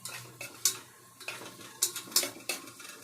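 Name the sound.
chopped onion being sautéed and stirred in a pan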